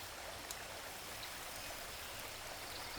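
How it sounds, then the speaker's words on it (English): Water poured into vegetables cooking outdoors over a fire, a steady faint splashing and trickling hiss that holds evenly for a few seconds with no voices. "Last, we add a touch of water"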